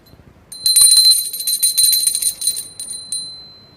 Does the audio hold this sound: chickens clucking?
no